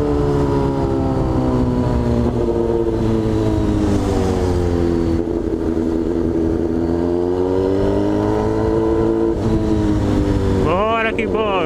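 Loud, close roar of a Honda Hornet four-cylinder motorcycle engine, holding a steady rumble with pitch sweeping up and down through repeated throttle changes and a sharp rev near the end.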